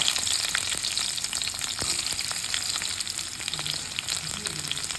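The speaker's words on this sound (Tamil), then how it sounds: "இது எல்லாத்தையுமே நல்லா வதக்கிக்கலாம்." Garlic cloves, shallots, mustard seeds, dried chillies and a little tomato sauté in a pan for Mangalore fish gravy, giving a dense, steady crackling sizzle with faint stirring, close and even throughout.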